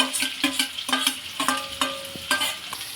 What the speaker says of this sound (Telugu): పచ్చిమిర్చి వేసినాక కొంచెం చిటపటలాడుతుందండి, కొంచెం జాగ్రత్తగా ఉండాలి. తర్వాత ఒక 3-4 ఆనియన్స్ వేసుకోవాలండి. అవి కొంచెం ఫ్రై అవ్వాలి